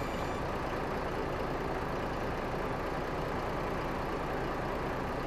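A heavy-duty truck engine idles in Euro Truck Simulator 2, a steady low diesel rumble with broadband hiss that holds unchanged and loud throughout.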